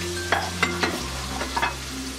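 Garlic paste with bay leaves, cardamom and cinnamon frying in hot oil for chicken biryani, a steady close sizzle broken by several scraping stirs of a spoon in the pan.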